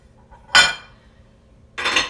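Two sharp clattering clinks of a plastic microwave plate cover being handled and set down in a kitchen, separated by a short pause, close and loud with no talking.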